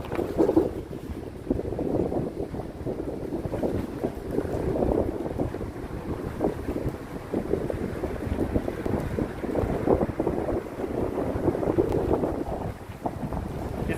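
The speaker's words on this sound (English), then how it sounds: "Very windy under this bridge right now." Strong wind gusting under a bridge on a boardwalk at Disney's Hollywood Studios, buffeting the microphone in a continuous rough, roaring rush that surges and eases over several seconds.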